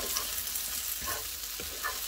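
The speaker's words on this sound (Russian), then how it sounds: "Обжаривать их необходимо в течение" Sliced eggplant frying in a pan, a soft continuous sizzle with faint crackles and a few light stirring taps, fairly quiet.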